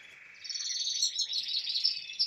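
Canaries, including a variegated male, chirp and warble continuously at a moderate distance in a home aviary, their high trilling song fairly soft and alone.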